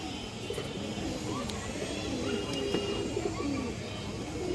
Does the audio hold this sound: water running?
no